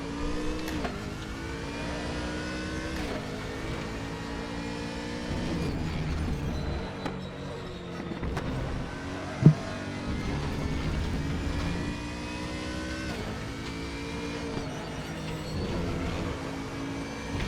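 A BMW Z4 race car engine in the RaceRoom racing game, revving up and down repeatedly as it accelerates out of corners, a steady loud engine drone with rising pitch sweeps and one sharp knock midway; no talk.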